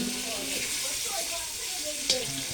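Boal fish frying in a pan, a steady close sizzle with faint background voices and one brief clink of a utensil near the end.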